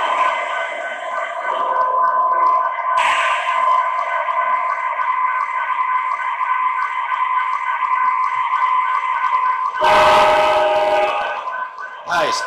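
An MTH ES44AC diesel model locomotive sounds its horn in long, loud, sustained blasts, close and continuous over about twelve seconds, with a harsh burst of noise near the end.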